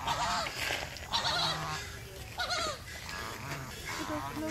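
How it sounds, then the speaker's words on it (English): Barnacle geese at Woodland Park Zoo in Seattle give repeated short honking calls amid other farmyard-like bird and animal cries, with a busy outdoor background and nearby voices. "That's the barnacle goose over there walking."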